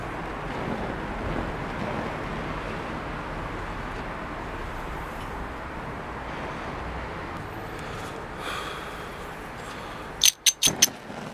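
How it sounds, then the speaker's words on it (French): Wind blows outdoors as a steady broadband rush buffeting the microphone, loud and close, ending with a few sharp knocks in the last second. "Oh, y a du vent."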